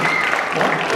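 A crowd claps together at a Nepali Christian engagement ceremony, loud dense applause lasting the full short moment with no pauses.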